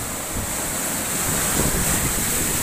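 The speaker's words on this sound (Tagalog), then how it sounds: "Grabe ang alon. Yun o." Strong sea waves roll and crash during a typhoon at night, a loud continuous roar of surf mixed with gusting wind buffeting the microphone.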